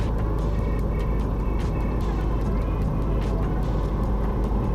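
A Cessna 172 engine drones steadily and loudly through the cabin as power is eased back on approach to landing, a constant low rumble with no break across the span.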